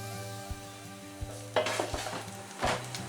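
Oil sizzles softly in a pan during fish and chips cooking, a faint steady fizz under a low hum, broken by a couple of louder stirring and scraping bursts.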